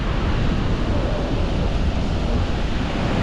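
Constant wash of sea waves and wind at a beach front, a dense steady roar close to the microphone with no distinct breaks.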